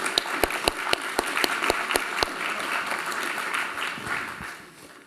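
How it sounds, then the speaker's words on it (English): Audience at a health policy panel applauds the panelists. Crisp individual claps stand out near the start, then a steady round of clapping fades out toward the end. "Let's give a round of applause for our panelists here."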